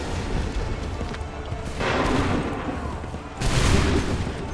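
Musket volleys sound in the video game Assassin's Creed 3, with two broad roaring bursts of massed gunfire over a rumbling battlefield din.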